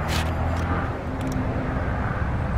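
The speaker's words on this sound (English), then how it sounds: "Noisy car." A noisy car passes outside, a broad rumbling roar that holds steady for a couple of seconds at moderate distance, with faint scraping in a workshop.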